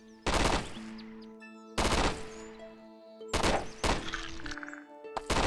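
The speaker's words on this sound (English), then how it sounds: "See, the machine gun's just opening up on them." Machine gun fire in a turn-based strategy video game, heard as four loud, sharp bursts spaced about a second apart, each followed by a ringing tonal tail and a brief clattering decay.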